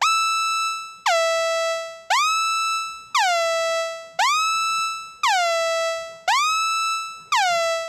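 A bright, buzzy synthesizer plays a run of eight notes in Ableton, each about a second long. Each note swoops down in pitch into the next with a smooth glide and then decays, loud and alone with no talking.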